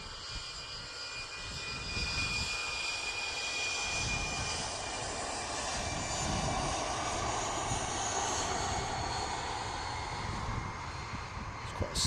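EasyJet airliner jet engines roaring at Manchester Airport at dawn, a loud sustained broadband rumble and whine holding steady across the whole stretch with no talk over it.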